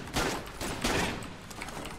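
Shotgun fire in the Enter the Gungeon video game booms in a few heavy blasts over two seconds, loud and close, with a dense, noisy texture between shots.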